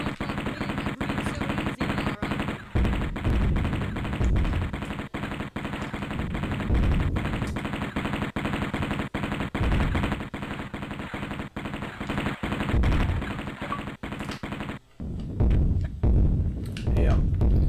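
Sustained rapid gunfire from the Sega Saturn version of Tomb Raider, dense machine-gun bursts that run loud and nearly continuous, then break off briefly before more shots resume.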